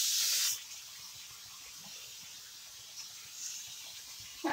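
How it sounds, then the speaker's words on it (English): Cooking spray from a can misted onto a frying pan in a home kitchen, one loud, short hiss at the start, followed by quiet room tone with faint small clinks. "You can just spray it down."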